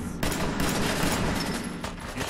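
Rapid gunfire in a Fallout 4 firefight, loud and dense bursts of shots running continuously with sharp reports cutting through, no talk.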